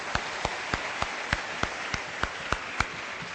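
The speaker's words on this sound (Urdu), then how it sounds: "بہت بہت تالیاں شاید آفریدی کے لیے" A studio audience on a Ramadan television show claps in a steady, even rhythm of about three claps per second for cricketer Shahid Afridi. The claps are sharp and fairly soft, with no talk over them.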